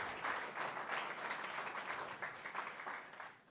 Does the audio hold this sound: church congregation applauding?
yes